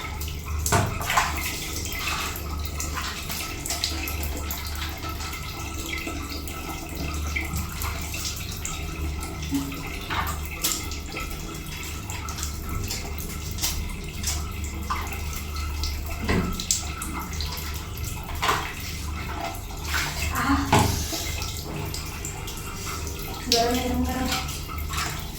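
Water is poured and splashed over the body while bathing, with irregular close gushes and drips throughout and a person talking at times.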